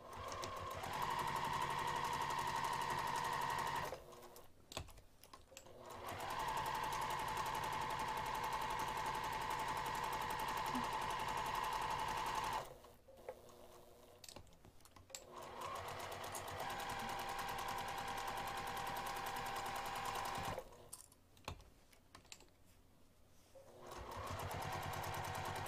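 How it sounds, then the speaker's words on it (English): A sewing machine runs in long steady bursts of rapid stitching, stopping briefly between runs, close and even. "I'm going to take this back over to the sewing machine and I'm going to stitch around the entire outer edge"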